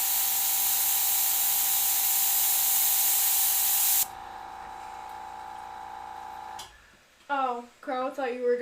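Airbrush spraying paint gives a steady, loud hiss through the first half, then a quieter continuous spray before it cuts off, with a person starting to talk at the end.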